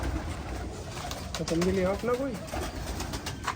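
Pigeons coo on a rooftop loft, a few soft rising-and-falling calls near the middle, set against a steady outdoor hiss with someone speaking briefly.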